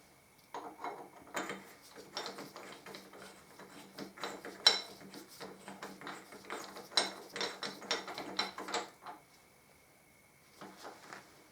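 A nut on a Harley-Davidson Deuce trike being wound on by hand, a quiet run of ratcheting clicks coming in short irregular bursts, close by and otherwise alone.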